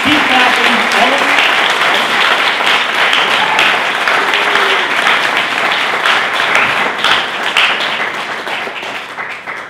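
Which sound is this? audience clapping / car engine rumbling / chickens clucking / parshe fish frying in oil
audience clapping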